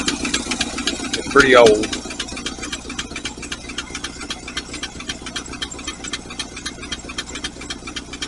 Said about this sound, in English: And yes, it still has the lifter noise